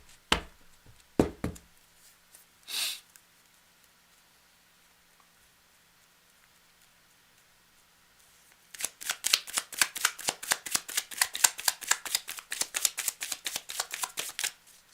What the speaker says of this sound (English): So let's put all the cards back in here, and then we're going to shuffle up